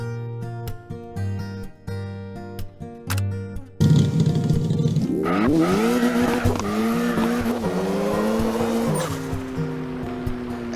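A car drifts with sway bars fitted in the CarX Drift Racing 2 video game: engine revs rise through gear-like steps, then a loud sustained tire screech and engine whine take over, wavering in pitch for several seconds.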